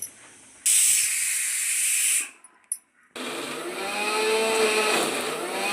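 A kitchen mixer grinder jar whirs loudly grinding chutney, running in bursts with a brief pause between, the motor noise steady and close.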